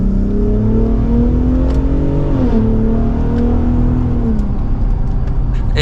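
A Hennessey VelociRaptor 600 Ford F150 pickup accelerates hard in second gear, its engine drone climbing steadily in pitch, briefly dipping at a shift-like break, then rising again, loud and continuous from inside the cab.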